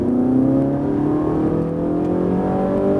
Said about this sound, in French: Et là on va accélérer.